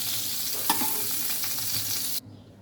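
Pointed gourd (potol) frying in a pan, a steady close broadband sizzle with a few clinks from turning the pieces, cutting off abruptly near the end.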